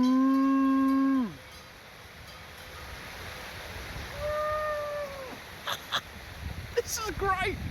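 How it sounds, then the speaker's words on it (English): A long, deep moo from a cow rings out near at hand in the Alps, followed a few seconds later by a second, softer bellow, over steady wind and rustling. "But these cows are so happy. Just listen."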